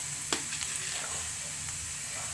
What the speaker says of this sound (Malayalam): കറിവേപ്പിലിട്ട് കൊടുത്ത് കുറച്ച് മുളക് ചതച്ചമുളക് മുളക് കൂടിയിട്ട് അത് മൂത്ത് കഴിയുമ്പോൾ